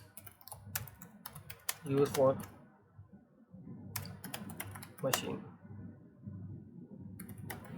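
Rapid clicking keystrokes on a computer keyboard as a comment is typed into a Microsoft Word document, with someone talking over the typing throughout.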